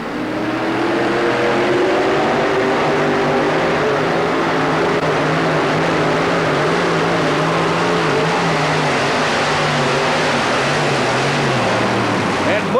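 A four-engine modified tractor pulling at the Houston Astrodome in 1991, a loud, sustained multi-engine roar with shifting pitch throughout and an announcer talking over it in a large indoor arena.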